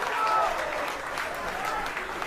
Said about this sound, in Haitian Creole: je vous demande de vous applaudir fortement, s'il vous plaît, pour cette présence ce soir